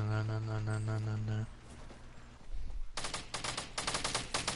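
Bursts of rapid automatic gunfire in a shooter video game, loud and close, arriving as a sustained rattling volley after a stretch of tonal game sound and quieter shuffling.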